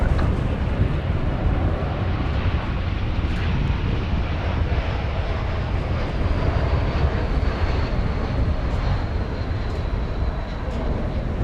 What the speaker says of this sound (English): Next arrival, Flight 3131 from San Diego, California, an Airbus A321.